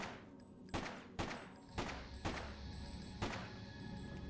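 Gunshots ring out in Freedom Fighters, five distinct fairly quiet shots at uneven intervals, each with a short echoing tail over a low background hum.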